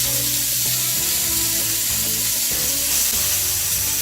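Burger patties sizzle steadily in a hot pan just after being flipped to the other side, a continuous loud frying hiss with some uneven crackle throughout.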